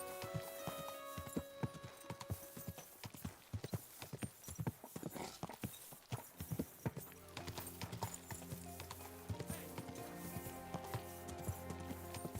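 Rhythmic hoofbeats of a trotting horse in a video game, steady and close, with a low musical drone underneath and occasional snorts.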